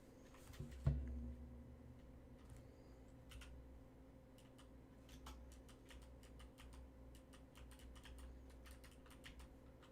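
Typing on a computer keyboard in a quiet room, a soft bump followed by scattered light key clicks in short irregular runs, close and gentle, no talk over it.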